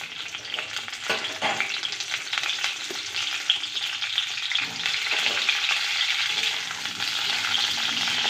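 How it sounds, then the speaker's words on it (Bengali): Cauliflower frying in white oil in a wok, a steady close sizzle with stirring scrapes and occasional bursts, heard alone with no talk. "দিয়ে দিলাম কড়াতে তেল, সাদা তেল। আগে ফুলকপিটা ভাজবো।"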